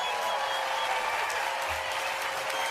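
A large crowd at a National Baseball Hall of Fame induction ceremony for David Ortiz claps and cheers in a dense, continuous wash of applause, heard from a distance.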